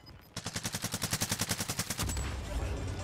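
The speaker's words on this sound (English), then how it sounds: "Someone's shooting right under me." A loud burst of rhythmic automatic gunfire in Call of Duty: Modern Warfare hammers out about fifteen evenly spaced shots, then breaks into a sustained roar of battle noise.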